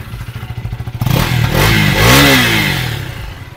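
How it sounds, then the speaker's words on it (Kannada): A KTM Duke 250 motorcycle on its stock exhaust idles with a rapid pulsing thump, then revs up sharply into a loud, rising snarl that peaks and falls back, close by. "ಸೊ ಇವಾಗ ಒಂದು ಎಕ್ಸಾಸ್ಟ್ ನೋಟ್ ಕೇಳಿಸ್ಬಿಡ್ತೀನಿ"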